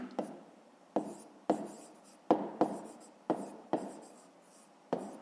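Pen or pencil writing by hand on paper while working a fifth-grade math exercise, with quick repeated strokes and scratches in short bursts, close and fairly quiet, no talking.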